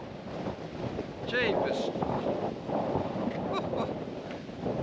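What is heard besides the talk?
strong wind on the coast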